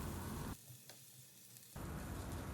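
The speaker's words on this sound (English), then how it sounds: "on medium flame we will saute them until the raw taste of onion, ginger, garlic goes away and they turn golden brown in color" Onion, ginger and garlic sizzle loudly in a pan over a medium flame. The broadband frying hiss stops for about a second, then returns at full strength, as if the pan is lifted and set back.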